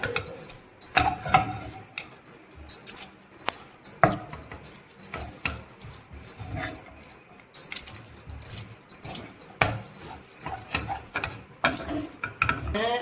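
Rusk halwa being mixed with melted ghee in a hot pan, with irregular scraping and tapping of a spoon against metal in quick bursts over a faint sizzle, close and fairly loud.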